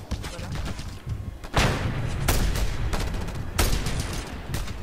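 Gunfire and explosions rattle through the video game Just Cause, sustained bursts of automatic fire punctuated by several heavy booming blasts, loud and dense, with a voice talking now and then underneath.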